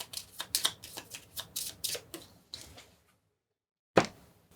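Playing cards for a solo board game are riffled and shuffled close by in a quick series of crisp flutters, then a pause of silence and one final sharp snap of the deck.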